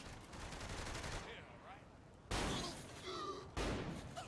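Close, loud shotgun blasts firing buckshot in Saints Row: The Third, a rattling burst at the start and two sharp heavy shots later with echoing tails.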